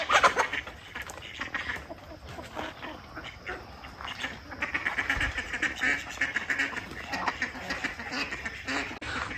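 Two ducks quack loudly and continuously beside a rooster in a farmyard pen, a busy, close stream of overlapping calls filling the whole stretch.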